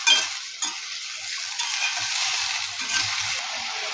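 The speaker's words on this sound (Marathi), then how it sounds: "तर ही फ्लावर आपल्याला परतून घ्यायची आहे तेलामध्ये" Cauliflower florets are stir-fried in oil with onion, giving a continuous close sizzle broken by several sharp utensil scrapes and stirring strokes against the pan, no talking.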